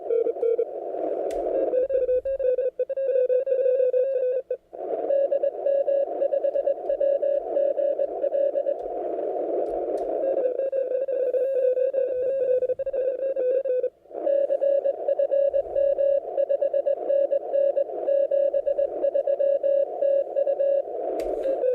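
Distant Italian mega station heard over shortwave radio as a steady, fairly loud carrier tone with faint upper harmonics, broken by a few brief dropouts and occasional static bursts.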